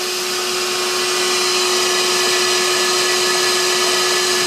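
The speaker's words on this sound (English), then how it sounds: "So I'll cut the vacuum" Loud, constant whine of a vacuum running on a greenhouse seeding tray, a steady drone with a sharp tone holding throughout and no talk.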